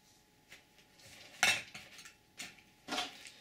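An alcohol stove cook kit and a fork are packed into a metal pot, a few distinct clinks and rattles spaced apart, close and light, with no talk.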